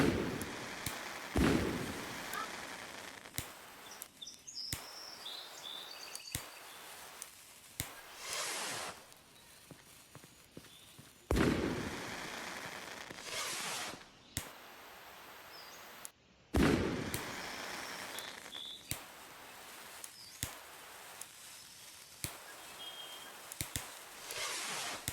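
Fourth of July fireworks launch outdoors in a bunch, giving sharp whooshes and pops at a distance over a background hiss, with several louder bursts spaced through the stretch and faint high whistles between them.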